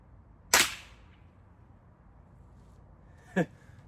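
Two sharp air gun shots fired at a target, the first loud and snappy, the second a softer report about three seconds later, with quiet between them.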